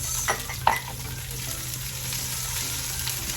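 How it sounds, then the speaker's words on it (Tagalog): Onions going into a hot pan and sautéing in oil, a steady close sizzle and fry with a couple of brief stirring scrapes near the start. "And then, ilalagay po natin yung sibuyas."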